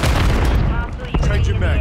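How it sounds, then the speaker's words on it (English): A Semtex grenade detonates in Call of Duty, a loud, dense blast under continuous battlefield rumble and gunfire that swells and holds for under two seconds. "Throwing Semtex."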